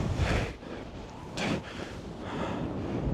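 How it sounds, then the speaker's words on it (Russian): Strong wind gusting across an open mountain trail in Armenia near sacred Khustup, a steady roaring buffet on the microphone with louder surges, no voices. "Сильный ветер"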